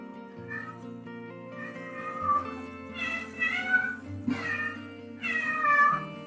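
A cat meows repeatedly in clear, drawn-out cries over a steady low hum, during a yoga session, loud and close with several meows in succession.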